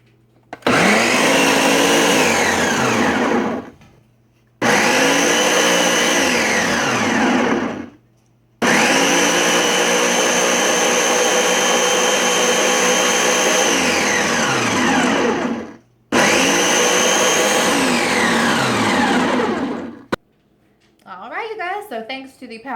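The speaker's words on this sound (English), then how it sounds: "that Nutra Ninja is super loud, no lie, but it's totally awesome" Nutri Ninja blender blending a green smoothie: loud, whining motor roars in four long bursts separated by short pauses, pitch rising and dipping, followed by faint handling sounds at the end.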